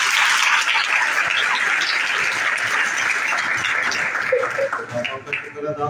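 A church congregation at a Sunday service breaks into loud, sustained applause that fills the room, then fades toward the end.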